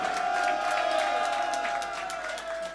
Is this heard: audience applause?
yes